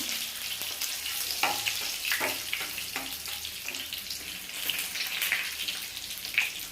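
Crushed garlic and red chili sizzle in hot oil for a whole lentil masoor dish, a steady bright frying hiss with occasional sharper crackles and stirring, close and continuous with no talk.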